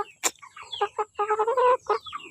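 Hens cluck in a quick series of short, throaty calls, fairly close and clear, with brief pauses between bursts.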